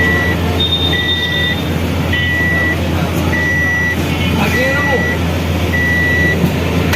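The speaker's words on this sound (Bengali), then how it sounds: "আমার ডোর খোলা আছে, যার কারণে বিপ দিচ্ছে" A car's door-open warning chimes with short, evenly spaced beeps that repeat at a steady pace for the whole stretch, over a low background hum.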